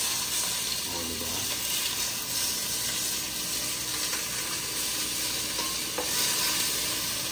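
A pan sizzles steadily as food is sautéed and stirred, with the scrape of a utensil in the pan and faint voices in the background.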